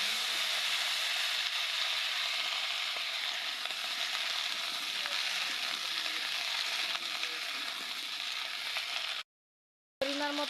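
Washed jujubes go into hot oil already spiced with dried red chillies and five-spice seeds for a sweet-sour pickle. They give an even, continuous sizzle that cuts out abruptly near the end, then briefly resumes.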